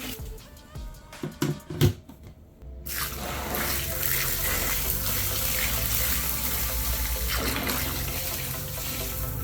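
A tap runs hard into buckets for coco-coir mushroom substrate, with a few clanks and knocks followed by a loud, steady gush of hot water that continues throughout.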